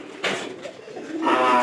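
A pair of home pigeons coo in their loft, close and fairly loud, the throaty calls swelling toward the end after a brief flutter-like burst.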